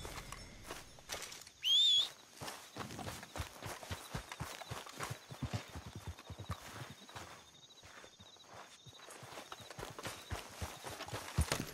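Horse hooves clip-clop in a steady walking rhythm in Red Dead Redemption 2, close and continuous, with a brief loud burst near the start and a faint whistle-like tone above.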